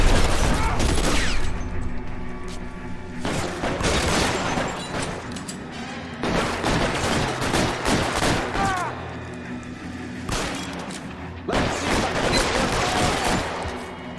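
Gunfire in the 1940s Los Angeles crime video game L.A. Noire, several loud bursts of rapid shots coming in separate volleys with short quieter gaps between, voices talking over some of the action.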